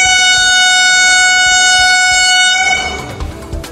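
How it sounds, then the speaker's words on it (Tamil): A Vande Bharat train on a trial run from Madurai through Namakkal sounds a long, loud, sustained horn up close, which then fades as the rumble of the passing cars continues. "மதுரையிலிருந்து நாமக்கல் வழியாக சென்ற வந்தே பாரத் ரயிலை பயணிகள் வரவேற்றனர்"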